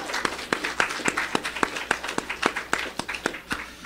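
A modest round of applause from a church congregation at a Sunday service, thin and sparse with individual claps standing out in an uneven rhythm.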